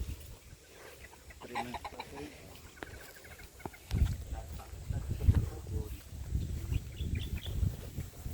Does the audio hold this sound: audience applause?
no